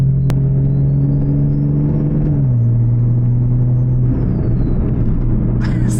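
A steady turbocharged engine rumble from a car with a T51R turbo, a faint high turbo whistle rising and falling above it, loud and continuous throughout.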